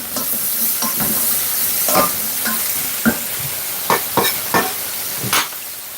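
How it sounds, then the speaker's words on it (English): Red onion sizzles loudly in hot oil in a pot while a spoon stirs and scrapes through it, with several distinct scraping strokes over continuous frying hiss. "I'm gonna put about half an onion in this, but I'm using red onion."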